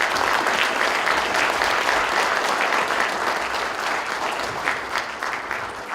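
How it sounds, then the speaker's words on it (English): An evening audience at a university homeland security student showcase gives a sustained round of applause for student presenters, dense steady clapping filling the room. "giving a round of applause for our 5 student presenters here tonight"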